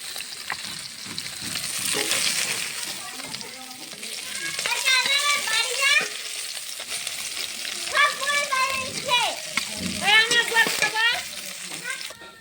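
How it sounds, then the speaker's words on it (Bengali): Small khoka hilsa fish frying in hot oil in a pan, a steady loud sizzle running throughout, with a voice talking over it in bursts. "বাকি মাছগুলো ওইভাবে ভেজে নেব এই তেলেই।"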